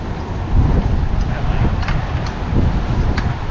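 Strong wind gusting around a vehicle awning being secured, a steady low roar with buffeting surges; people talk over it.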